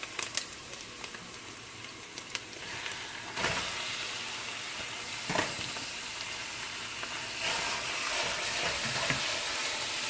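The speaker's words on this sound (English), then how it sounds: "So we're going to saute the onions and the garlic." Onions, garlic and meat sauteing in a pan for Greek moussaka, a continuous close sizzle with bursts of louder frying and occasional stirring scrapes, no talk.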